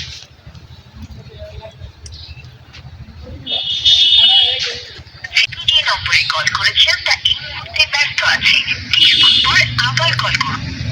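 A phone rings with a bright electronic tone for a moment, then voices talk over background noise.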